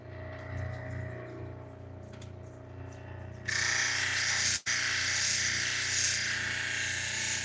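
Flint and larimar cabochon ground at 1200 grit on a wet lapidary wheel: a steady motor whir, then a loud hissing grind as the stone meets the wheel partway through, with one brief dropout and no speech.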